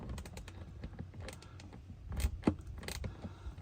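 An 8mm socket on a small ratchet tightens a bolt on the front bumper canard of a Subaru WRX STI, giving quiet, rapid clicking and ticking with a few sharper knocks, close up.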